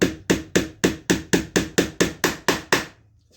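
A hammer drives a 2-inch nail into a wooden beehive frame with eleven sharp, evenly spaced strikes close by, then stops.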